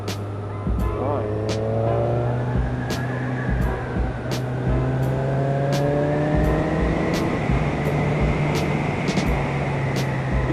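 A Kawasaki Z1000 motorcycle on the move, engine note climbing and dropping through smooth gear changes with steady wind noise and occasional ticks; a rider speaks over it.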